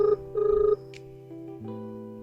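A phone call ringing unanswered: a close electronic ring tone that pulses in short bursts and then settles into a steady sustained tone, fairly loud with no voices.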